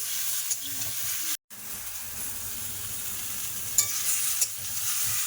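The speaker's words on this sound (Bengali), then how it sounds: "লবণ হলুদ সব একসাথে দিয়ে একটু কষাই করে নিচ্ছি" Vegetable curry sautéing with salt and turmeric in a pan, a close, steady sizzle with soft stirring scrapes and a brief cut-out partway through, no voices.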